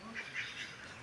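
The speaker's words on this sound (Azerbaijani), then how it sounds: "Baxın, ördəklər çox sərbəst gəzirlər özləri üçün." Mallard ducks at a restaurant pond give a brief run of quacking against a steady, noisy outdoor background.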